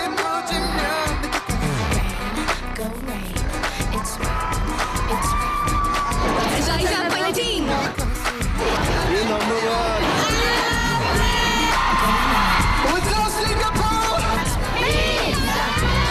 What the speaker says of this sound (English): The immense crowds that greeted him wherever he went